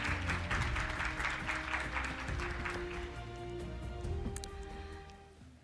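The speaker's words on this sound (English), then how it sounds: "Can we give her a round of applause, please?" An audience at a ministerial conference applauds for several seconds, the dense clapping loud at first and then thinning out and fading.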